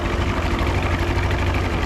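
A boat outboard engine idles steadily while warming up in fresh water, a dense low rumbling drone with constant vibration, close and loud with no break.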